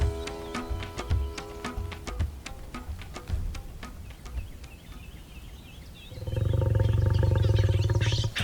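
A lioness charging at baboons in the wild, with scattered sharp clicks and calls before a loud, sustained low roar that builds near the end.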